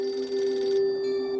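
A telephone rings with a steady electronic bell tone, one short sustained ring, clear and close, with no voices over it.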